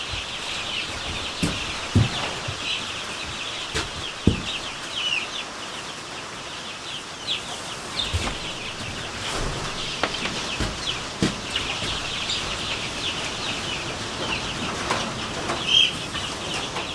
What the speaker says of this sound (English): Here are all the chickens and the guineas.